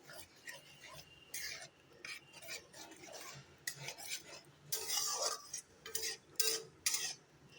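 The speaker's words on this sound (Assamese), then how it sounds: "ভালকৈ আকৌ নৰা-চৰা কৰি দিম এনেকৈ।" A utensil stirs chopped banana flower and potatoes in a pan, giving quiet scraping and rustling strokes that come in irregular bursts, growing busier toward the end with no talking.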